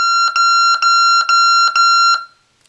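A Real Care Baby Think It Over G6 infant simulator doll goes into emergency shutdown with five loud, piercing electronic beeps, each split into a quick double pulse, evenly spaced and close, then silence.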